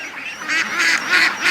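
Ducks being raised for charity quack and honk as they rush out of their pen, a near, busy flurry of overlapping calls in quick rhythmic bursts, with no talk.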